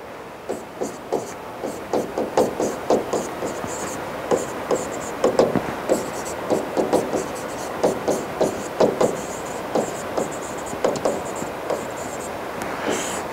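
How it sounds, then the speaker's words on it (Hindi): Handwriting with a pen on paper: short scratchy strokes in a steady, close rhythm, repeated without pause. "मैं लिख देता हूं।"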